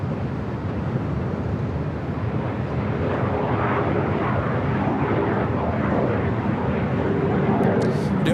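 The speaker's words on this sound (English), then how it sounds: "Sun Country 737-800 heading to, I believe, Minneapolis" A Sun Country Boeing 737-800 jet departs LAX for Minneapolis, a broad, steady engine roar holding at constant strength throughout, with a voice faintly present underneath.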